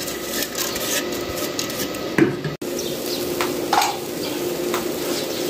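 Meat fries in a pot for a spiced degi aloo gosht dish, giving a steady close-up sizzle with occasional scraping stirs against the pot.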